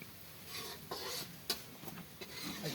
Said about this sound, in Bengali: পেঁয়াজ ভাজি করে নিচ্ছে